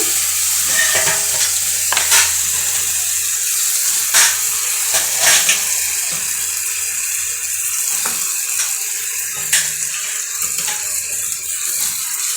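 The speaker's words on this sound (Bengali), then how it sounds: "মাংসটা দিয়ে দিলাম। ভালো করে কষিয়ে নেব।" Meat being sautéed in spice masala in a pan with oil, a loud steady sizzle with repeated scraping strokes of a spatula as it is stirred, close up and uninterrupted.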